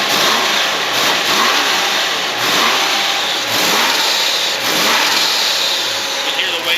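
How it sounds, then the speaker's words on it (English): Big block 383 muscle car with twin Garrett turbos, 8-to-1 compression and mandrel-bent plumbing, running loud and close with a steady engine roar, repeated surges and wastegate hiss bursting through across the clip. "You can hear the wastegates open"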